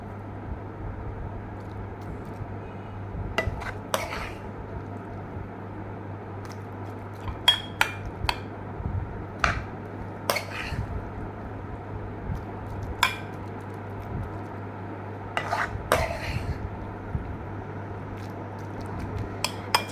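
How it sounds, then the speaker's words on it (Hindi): Spoon clinks and scrapes against a serving dish as cooked brinjal bharta is spooned out in a kitchen, scattered sharp taps over a steady low background hum, with no voices. "अब मैं इसको डिश आउट करने लगी हूँ"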